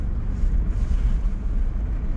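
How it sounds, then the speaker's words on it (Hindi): Cold wind blowing steadily in a hill nature park near Shimla, a loud continuous low rumble of wind buffeting the microphone, with no talk. "बहुत ही ठंडी हवा चल रही है"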